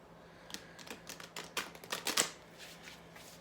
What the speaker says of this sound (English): I love shuffling cards.